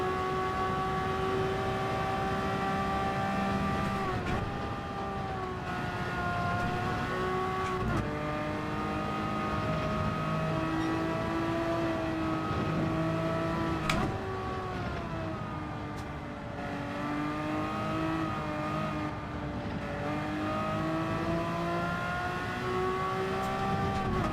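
A race car at full throttle around Circuit de la Sarthe in Gran Turismo 7, its engine climbing in pitch through the gears with brief dips at each shift, sustained, loud and steady, with no talking.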